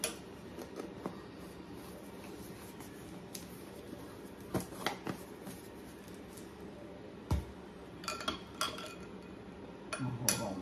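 A metal spoon clinking and scraping against a dish while mixing food, close up, with scattered sharp clinks over a steady background hiss and a few louder knocks toward the end.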